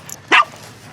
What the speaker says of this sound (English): He's getting a big bark now, eh?